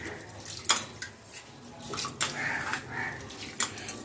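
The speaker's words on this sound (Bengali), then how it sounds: "পরমান্ন তৈরি করার জন্য সবার প্রথমে আমি চালটা একটু ভালো করে ধুয়ে নেব।" Govindobhog rice being rinsed by hand in a pot of water for Bengali paramanna, with soft sloshing and swishing splashes and light clinks against the pot, close and fairly quiet, with no talking.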